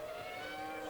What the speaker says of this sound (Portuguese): Olha aí, vão passando os dois carros da Benetton.